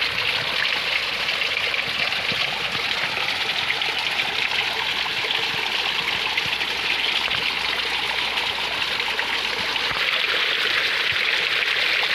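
A jungle stream running low flows with a continuous, even rush of water, close and unbroken, with no speech over it.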